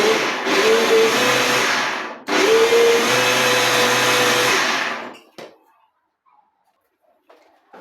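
An electric kitchen grinder whirs loudly while grinding ingredients for Burmese curry, running in two steady bursts of a few seconds each with a brief pause between, then cutting off and leaving quiet clinks.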